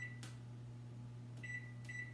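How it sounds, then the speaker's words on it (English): A steady low electrical hum of a running microwave, with a few short high beeps near the start and toward the end. "I'm going to stick it in my microwave"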